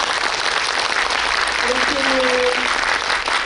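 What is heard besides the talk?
audience applause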